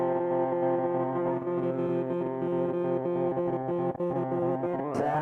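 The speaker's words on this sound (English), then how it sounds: "started with a distortion, the overdrive flavor" A continuous overdriven, distorted tone from a Boss 505 loop station effect holds steady and loud for several seconds, then wavers and bends near the end.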